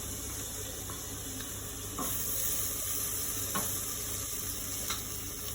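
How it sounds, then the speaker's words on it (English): Lamb shank pieces fry in a pan with flour, tomato puree, beef stock and bay leaves, giving a steady close sizzle broken by occasional stirring scrapes. "Just fry it again for some time."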